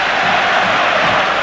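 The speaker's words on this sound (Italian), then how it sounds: "una Roma che si merita anche gli applausi dei suoi sostenitori" Roma supporters fill the stadium with a dense, loud, steady roar of applause and crowd noise during the 1992–93 Coppa Italia final against Torino, a continuous wash with no distinct voices standing out.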